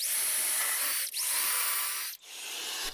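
Power drill driving a screw into a support piece inside an old, rotten wooden cupboard, a steady high whirring run broken by two brief pauses, close and loud with no talk.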